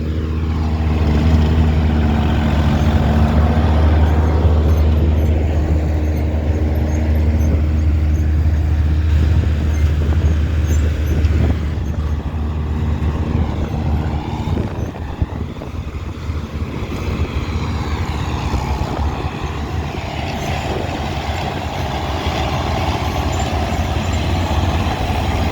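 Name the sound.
restored vintage tractor engine running during silage season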